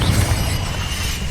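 A Bombarda or Confringo curse explodes in Hogwarts Legacy gameplay, a loud, dense low-end blast with crackling debris that rumbles steadily through the whole moment.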